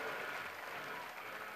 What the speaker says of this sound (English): Voilà, applaudissements, Milan Markovic qui remporte cette Coupe du Monde.